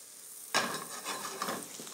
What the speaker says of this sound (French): Un morceau de beurre pour rôtir mes mangues.